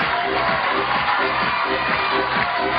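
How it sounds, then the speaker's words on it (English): A crowd roars at the 2012 Climbing World Cup bouldering finals in Innsbruck, Austria, a loud, sustained wall of cheering and shouting that holds steady throughout. "You can probably hear the roar of the crowd here in Innsbruck."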